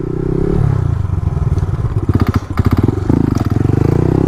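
A motorcycle engine revs close and loud throughout a circle wheelie, its note pulsing and surging as the clutch is worked, with a rapid rattling patter in the middle stretch and the engine droning on steadily to the end.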